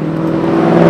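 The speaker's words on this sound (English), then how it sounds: "There's no cars coming this way, so after this black car, go." A black car passes on a road beside a forest, its engine and tyre whir rising steadily and loudly as it approaches.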